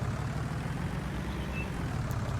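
Steady low engine drone of a tractor pulling a seed drill to plant barley in Farming Simulator 19, a constant rumbling hum with no change in rhythm, moderately quiet and alone without talk.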